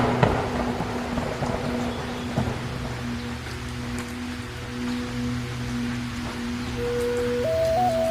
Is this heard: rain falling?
yes